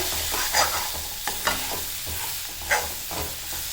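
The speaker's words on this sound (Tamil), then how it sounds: "ஸோ இப்போ மசாலா போட்டுக்கோம்ல, ஸோ அந்த மசாலாவும் நல்லா வேகணும், நல்லா வதக்கும்." Tomato masala being stirred and fried in a pan for a thick tomato thokku, a steady sizzle broken by several distinct spoon scrapes against the metal, close up with no talking.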